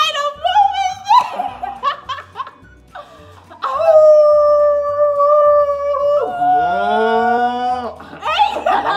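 A person imitates a wolf howling at the moon, a loud sustained vocal howl with rising and falling pitch that follows a few shorter yelping calls, with a steady low background hum throughout.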